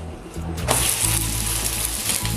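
Masala uttapam sizzling in oil on a pan just after flipping, a close, steady frying hiss that swells after a brief softer start and continues to the end.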